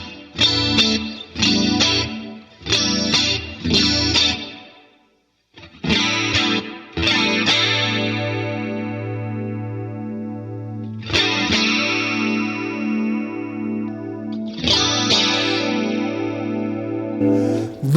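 An electric guitar, a player's first guitar, rings out through chorus and distortion effects, beginning with short rhythmic strummed stabs that give way to long sustained chords left ringing, loud and alone.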